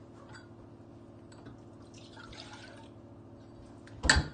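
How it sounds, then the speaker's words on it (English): Milk poured into a lined saucepan gives a quiet, steady liquid trickle, ending in a short louder clatter. "we start off with putting the milk into a lined saucepan"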